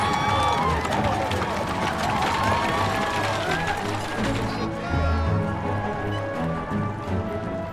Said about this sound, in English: Then we heard the cheering.